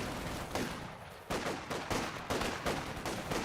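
An MG42 machine gun fires in the Company of Heroes 2 strategy game as rapid, dense bursts of loud gunfire repeat in quick succession over a busy battlefield din.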